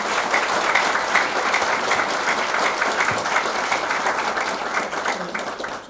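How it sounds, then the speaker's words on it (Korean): An audience at a welcome event bursts into sustained applause, a dense, loud wash of many hands clapping continuously before fading at the end. "박수 큰 박수 부탁드립니다."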